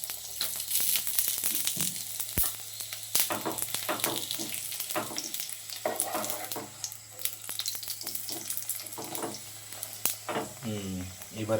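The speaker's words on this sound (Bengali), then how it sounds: "এরকম করে একে একে সবগুলো ভেজে নেব।" Paratha fries in hot oil in a pan, giving a steady close sizzle with occasional sharp clinks and scraping as it is turned.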